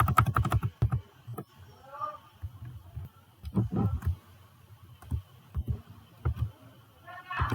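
Clicky computer keyboard typing while working in Microsoft Excel, coming in short irregular clusters of keystrokes between pauses, heard under a person talking through spreadsheet steps.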